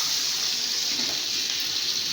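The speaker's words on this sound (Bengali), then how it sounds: "এখন আমি জল দিয়ে দেবো।" Water pours steadily into a cooking pot of hilsa curry, a continuous splashing gush that stays close and even for its whole length, with no talk over it.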